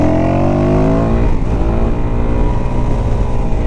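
Suzuki DRZ400SM motorcycle engine pulling hard in third gear, a loud, steady close-up drone with rising harmonics early on that settles into a rough, continuous roar for the whole stretch.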